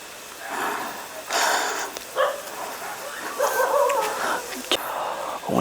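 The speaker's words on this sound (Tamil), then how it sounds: "அந்த நாய் குலைக்கிற சவுண்ட் எல்லாமே அப்படியே அங்கே அங்கே அங்கே தெரியுதுங்களா" A dog barks in short, scattered yelps at night near a temple site, heard under someone talking.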